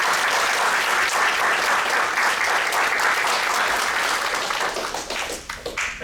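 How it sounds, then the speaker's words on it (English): A board of education meeting audience gives a steady round of applause for three students, dense clapping that holds evenly and then thins and tapers off toward the end. "Let's give Charlie, James, and Paige a round of applause"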